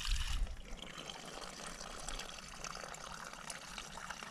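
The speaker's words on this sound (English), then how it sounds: "Fill this one now, it's just like a collapsible bottle" Water from a mountain stream in the Lake District trickles and gurgles into a collapsible bottle of about 600 millilitres, a soft, continuous pouring sound heard close and quiet with no talking.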